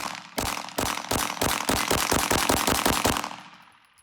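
A Laugo Alien pistol fired at a shooting range: a rapid string of about a dozen sharp, evenly spaced shots, close and loud, trailing off into a fading echo.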